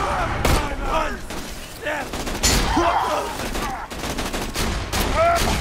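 Gunfire bursts in Borderlands 2, heavy shotgun blasts mixed with chaotic combat noise and effects, with players talking and reacting over the shooting.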